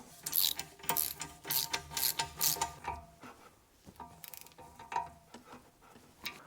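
Ratchet clicking in quick bursts while tightening a new suspension bolt on the underside of an E46 330Ci, close and fairly loud for the first three seconds, then sparser, quieter clicks with brief pauses between them.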